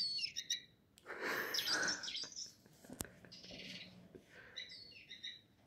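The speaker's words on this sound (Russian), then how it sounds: "Это птичка." A small bird chirping indoors among parcel boxes, bright short tweets in scattered bursts at the start, middle and end, fairly faint with quiet rustling between calls.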